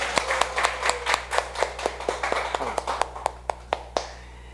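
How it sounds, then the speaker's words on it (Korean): A small audience claps together at a Korean lecture on talent and aptitude, giving a run of distinct hand claps, loose at first and then sparser and more separated, with a few final single claps standing out clearly. "스스로에게 응원도 할 겸 격려도 할 겸 박수 한번 보내볼까요?"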